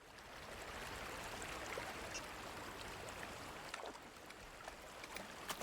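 A river flowing in the film A Quiet Place: a steady, faint rushing wash of water with light trickling detail, continuous and even throughout, with no voices over it.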